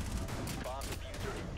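Gunfire in Rainbow Six Siege during a Border team deathmatch bomb round, a steady dense crackle of shots running through the whole moment with players talking over it.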